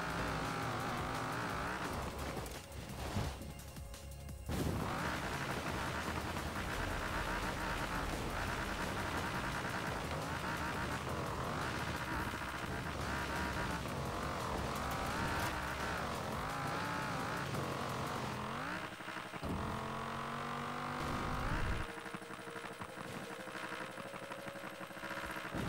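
Engine drone of a car in the Forza Horizon 4 racing game, loud and continuous with shifting pitch as it accelerates and shifts gears, a brief dip near five seconds and a change of tone late on.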